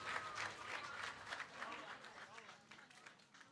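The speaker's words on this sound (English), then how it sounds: "Big round of applause, everyone." A crowd at a WRC Rally Finland 2024 meet-the-crews stage event applauds with steady, dense clapping throughout, with voices mixed into it.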